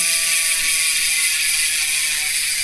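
A rapid, steady buzzing click of a Hasis Pro 7 mountain bike hub freewheeling, close and even throughout with no voices.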